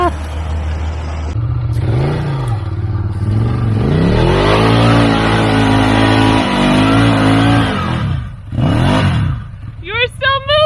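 A vehicle engine with a stick caught in it revs hard and repeatedly up close, its pitch climbing and falling, with a brief lull near the end before more revving.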